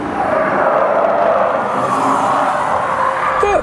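A Mazda CX-60 diesel accelerating hard from low revs, heard from inside the cabin as a steady, fairly loud muted engine drone rising slightly, with road and tyre noise throughout and no speech.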